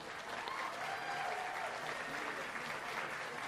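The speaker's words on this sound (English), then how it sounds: "give these kids a big round of applause" Steady applause from an audience fills the hall for the kids at a cattle judging at a county livestock show, a continuous even patter of many hands heard from a moderate distance, with no voices over it.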